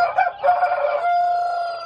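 Shamo and LHK chicks and chickens on a small ornamental poultry farm make close, clear tonal clucking and crow-like calls in a couple of bursts, then one sustained call that trails off.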